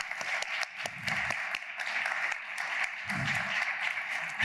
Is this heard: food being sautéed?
no